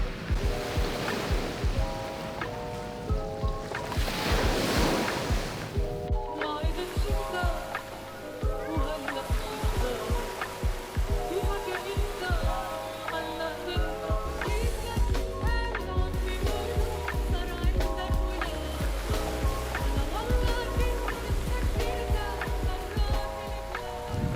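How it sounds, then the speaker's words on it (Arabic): Sea waves wash steadily onto a beach in Port Said, a continuous loud surf roar with rolling swells, heard under background music and occasional voices. "بس ده بصراحه افضل بحر شفته يعني"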